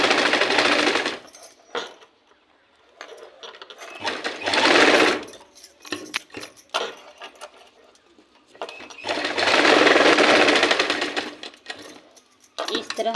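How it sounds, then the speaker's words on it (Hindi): A sewing machine stitching on paper in repeated bursts of rapid whirring, each a second or two long, separated by pauses and some talk. "ये देखिए हमने पेपर पे सिलाई डाल दिया है"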